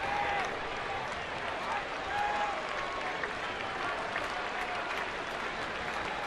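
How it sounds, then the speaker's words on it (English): Sellout baseball crowd applauding pitcher Barry Zito in a San Francisco ballpark, sustained clapping and cheering at a steady, moderate level through the whole stretch, with voices faintly mixed in. "you're going to hear a really nice ovation for Barry Zito with this sellout crowd"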